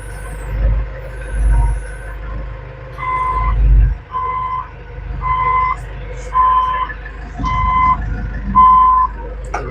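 A JoyT5 JT5WL2500 wheel loader reverses after dropping its bucket, its engine rumbling low while a loud reversing alarm beeps six times at a steady pace, close by.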